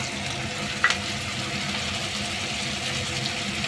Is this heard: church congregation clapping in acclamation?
no